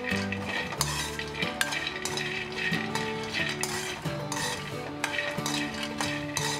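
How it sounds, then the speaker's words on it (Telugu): Peanuts dry-roasted without oil in a pan for a Rayalaseema-style peanut podi, stirred with a metal spoon; rattling, scraping strokes and clinks against the pan repeat throughout, close and quiet, with no talking. "పల్లీలు కూడా ఫ్రై అయిపోయాయి."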